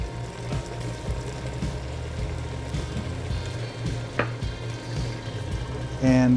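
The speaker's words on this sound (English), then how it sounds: "I'll give this a stir, and it's still on a pretty high heat here because I'm trying to cook all the vegetables" Vegetables with cumin and granulated garlic sizzle steadily in a hot pan over high heat, a dense continuous frying hiss with soft scraping stirs, closing with a brief louder clatter near the end.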